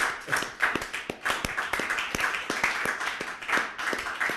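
A small audience claps at the end of an Industry Talk interview, quick, fairly quiet clapping from a handful of people, rhythmic and close, with no talk over it.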